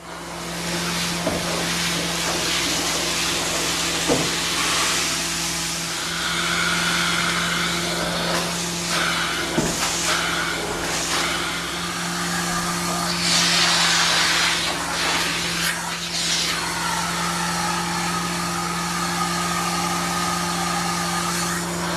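Carpet-cleaning vacuum hose working over a carpeted stair bullnose, a steady loud hiss and suction drone running continuously with small bumps and shifts as the nozzle moves.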